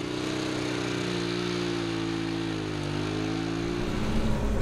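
A vehicle engine climbs a mountain road on a drive up into the Caucasus, a steady loud drone with harmonic whine that holds throughout and roughens toward the end, no voices heard.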